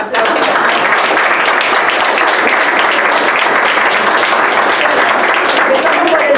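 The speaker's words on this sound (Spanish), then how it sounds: "Un aplauso." Loud, sustained applause from a crowd, dense clapping filling the whole stretch without pause.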